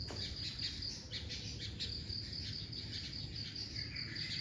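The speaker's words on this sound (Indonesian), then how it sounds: "Kan kalian bisa mendengarnya, suara alam, angin, burung-burung." An outdoor nature scene on Nusa Penida island: a constant, dense chorus of insects with faint bird calls and soft wind, steady and moderately quiet with no voices.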